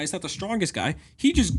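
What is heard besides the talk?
No distinct noise like a dog, phone or traffic.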